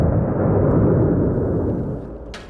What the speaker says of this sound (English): The Saudi-led coalition airstrike tore through this place.